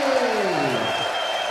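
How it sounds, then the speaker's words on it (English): Darts crowd at the Lakeside BDO World Championship roaring with applause and cheers after a maximum 180, a dense, sustained wall of noise from a packed hall. "Crowd on their feet again."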